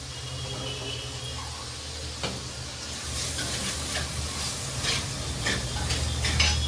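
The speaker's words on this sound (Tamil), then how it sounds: "இப்போ அவரைக்காய் எல்லாம் வதங்கிடுச்சு கொஞ்சம்" Broad beans sautéing in a pan for homemade sambar, a steady sizzle that grows busier and brighter over several seconds with light scrapes and clinks of a utensil, close by, no voices.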